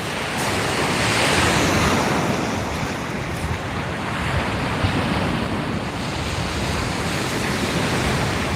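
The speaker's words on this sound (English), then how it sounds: "Love the sounds of the sea." Sea waves wash steadily against a kayak out fishing while wind buffets the microphone, a continuous broad roar, close and fairly loud, with no voices.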